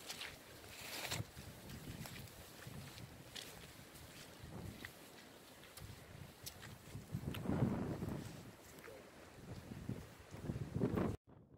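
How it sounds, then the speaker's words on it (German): Steady cold wind rushing and buffeting across an open moor in the Kaliningrad region, with gusts swelling and fading, no voices. "Kalt pfeift der Wind über das Moor."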